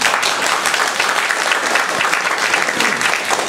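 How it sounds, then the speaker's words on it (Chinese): An audience applauding at a book launch, a warm and continuous burst of loud clapping from many hands that fills the whole moment, with no talk over it. "请大家热烈给他鼓掌"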